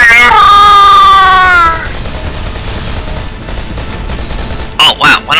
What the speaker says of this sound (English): why did my machine gun just stop all of a sudden?